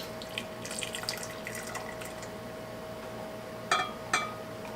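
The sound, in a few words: liquid poured into a glass measuring cup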